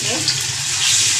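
Chicken pieces go into hot oil for a chicken karahi, setting off a loud, broad sizzle that swells slightly toward the end. The sound is close and steady, with no talk.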